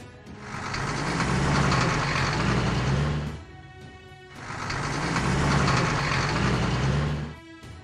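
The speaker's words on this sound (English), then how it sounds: "Tow truck." A tow truck engine roars in two loud, close bursts of about three seconds each, separated by a brief dip.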